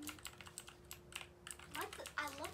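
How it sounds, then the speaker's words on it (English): Rapid clicking keystrokes on a computer keyboard at a child's tenth birthday, steady and close, with a voice and other talk rising over the final second. "I like the sound of keyboards too."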